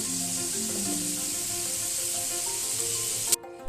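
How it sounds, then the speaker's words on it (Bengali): Potatoes frying in hot oil in a pan, a dense continuous sizzle held close and steady for several seconds before it cuts off abruptly near the end. "আলুটা লাল করে ভেজে আমি তুলে নেব"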